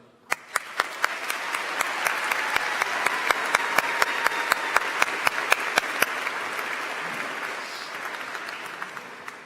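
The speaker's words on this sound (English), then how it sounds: "give a round of applause for our professors" Applause at a university commencement ceremony for the professors, a broad, sustained wash of clapping from a large crowd with sharp individual claps standing out in a steady rhythm, tapering off toward the end.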